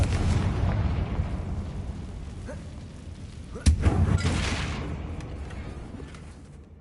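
A Confringo spell blast in a Harry Potter video game: a dull rumbling roar, then a sharp burst midway that swells and slowly decays back into a low, steady background.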